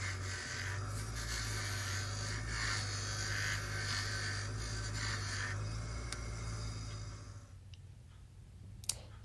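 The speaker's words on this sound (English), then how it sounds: "I'm further smoothing the edges with the fiber wheel on the little mini grinder" A small mini grinder with a fiber wheel smooths the edges of a silver-plated spoon ring shank, a steady close whirring and rasping that runs for several seconds before cutting off, followed by faint clicks.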